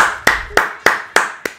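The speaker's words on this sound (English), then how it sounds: "Well, that's just me clapping." Five sharp, close hand claps ring out alone in a slow, evenly spaced rhythm, each leaving a short decaying echo.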